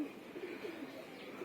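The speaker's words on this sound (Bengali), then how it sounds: "মাঝ আকাশে উড়ে আমার কবুতরগুলো।" Domestic pigeons coo softly around a rooftop loft, a faint, low, repeated burbling against a steady background hiss.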